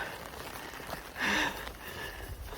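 Rain falls during a thunderstorm on a hiking trail, a soft steady patter close by with one brief louder rustling burst midway.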